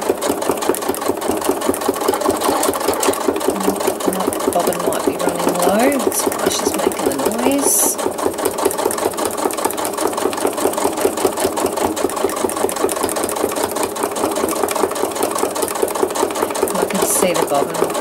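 A sewing machine stitches thread art from a photo, running in a fast, steady mechanical chatter close up, with brief pauses and slight speed changes as the fabric is worked.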